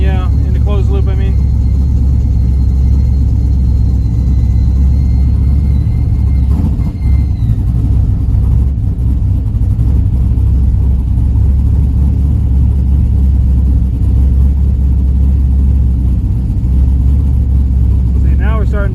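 Engine of a 1972 Buick Skylark idling steadily with its fuel mixture leaned out toward about 15:1, a loud, continuous low rumble close by, with someone speaking over it.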